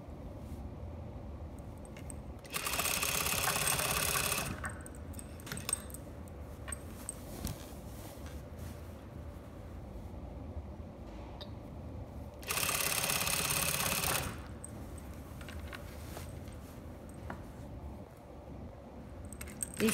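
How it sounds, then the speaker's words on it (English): A sewing machine straight-stitches a dress hem about a quarter inch from the edge, its motor whirring in two loud bursts of a couple of seconds each, separated by quieter handling noise. "So I'm going to sew this about a quarter from the edge when I straight seam."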